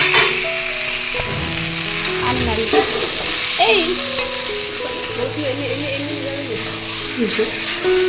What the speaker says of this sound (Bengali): টমেটো কুচি দিয়ে নাড়াচাড়া করছে।